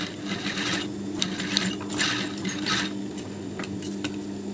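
A sewing machine runs steadily, stitching fabric for a flower-shaped pillow with pink matching trim, its motor hum and rapid needle chatter continuous and close throughout.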